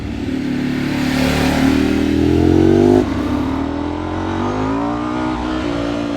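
A rebuilt Ducati 999S motorcycle on a cold mountain road accelerates hard, its engine note rising loudly for about three seconds before a gear change, then pulling strongly again close by.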